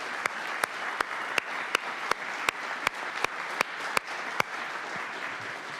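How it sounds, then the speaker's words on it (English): An audience applauds city employees at a mayor's State of the City address, a steady crowd clapping throughout with one sharper, nearer clap standing out at a regular rhythm over the wash. "please join me in one more rousing applause to all of our outstanding city employees"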